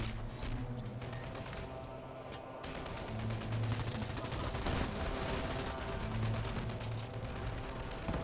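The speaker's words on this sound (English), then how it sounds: "Airstrike on us." Dirty Bomb video game combat: dense, rapid gunfire and machine-gun bursts rattle almost without pause, loud and close, with crashing impacts from an airstrike mixed into the barrage.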